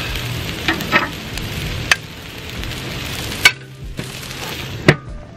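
Salmon patties fry on an outdoor barbecue in minus 13 winter cold, giving a steady close sizzle broken by a few sharp clicks and scrapes of a utensil.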